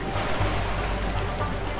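Steady broadband rush of river water in the video game A Way Out, churning toward a waterfall, loud and continuous without a break across the moment, no speech.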